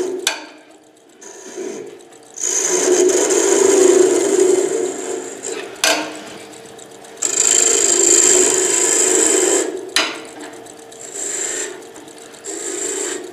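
Skew chisel cutting a wooden whistle on a lathe, in repeated long passes of scraping, hissing contact over the spinning motor hum, broken by short pauses and clicks.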